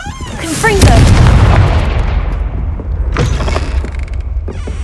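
Confringo blasting spell exploding in the Hogwarts Legacy video game: a loud, booming fiery blast that swells and rumbles off, followed a couple of seconds later by a second sharper burst.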